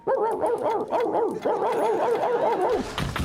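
A dog barks repeatedly nearby, with rapid, loud, yelping barks in an uneven rhythm that run through the whole moment, close and clear, with a sharper noise at the end.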